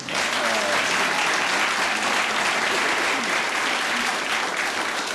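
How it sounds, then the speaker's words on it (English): Studio audience applause from a panel game show fills the room, a dense, steady, even clapping sustained throughout with no break. "clap a hand for the poor old losers, Patrick Campbell."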